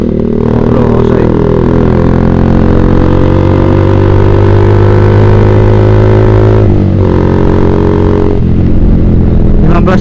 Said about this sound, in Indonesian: Sambil ngangetin motor aja kita.